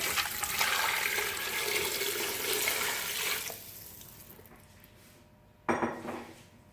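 Water pours and splashes steadily into a metal pressure cooker holding beef for a few seconds, then fades, followed by a brief clatter of metal near the end.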